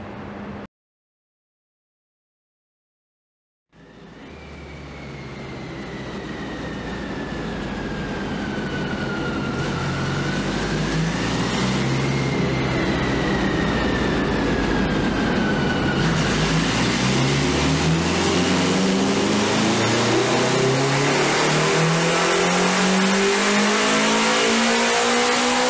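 A BMW K Series motorcycle engine runs on a dyno, starting after a brief silence and then climbing in a long, steady rise of revs, with a loud, sustained drone that keeps building in pitch.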